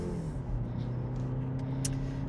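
BMW 530e Touring plug-in hybrid pulling away quickly, a steady low engine drone with a rising tone heard from inside the cabin, moderately quiet and with no talking.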